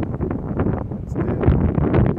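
Wind buffeting the microphone on Tel Aviv beach on a breezy day, a steady loud rush with gusty fluctuations and no voices.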